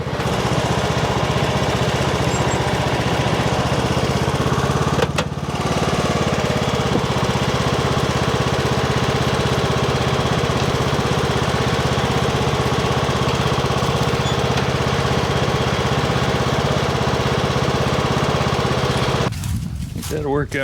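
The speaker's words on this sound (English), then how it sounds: "See if I can back this little tractor up to" A small tractor engine runs steadily and loud throughout, a constant chugging drone as it reverses toward a trailer, with a brief dip near the end.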